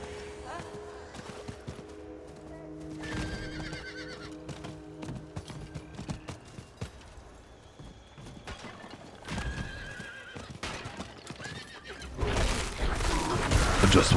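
A horse in the Diablo 4 video game clops along with repeated hoofbeats, giving several loud whinnies mid-clip, while game effects and music swell near the end.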